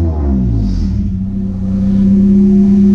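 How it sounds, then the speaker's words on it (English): A car engine in need of a tune-up, loud and close, rising in a short rev then settling into a steady humming idle. "Now this is what a car that just needs a tune runs like."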